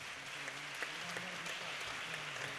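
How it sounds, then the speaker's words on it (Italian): An audience applauds a bocce champion at a community event in Pesaro, the clapping soft and distant but continuous, without voices. "Gli vogliamo fare un bel applauso?"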